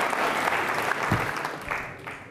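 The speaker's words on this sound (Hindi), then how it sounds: "विनीता के लिए जोरदार तालियां बजाइए, जोरदार तालियां बजाइए" An audience of NCC cadets at an Independence Day quiz show claps steadily, a dense wash of hands applauding at moderate volume with no pauses.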